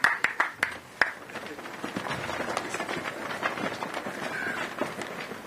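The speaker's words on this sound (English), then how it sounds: "So let us give him a parting round of applause before he comes to the podium." Audience applause rises at an outdoor ground-breaking ceremony for a hybrid renewable energy and battery project in Anegada, opening with a few sharp separate claps and then settling into steady, moderately loud clapping from a crowd.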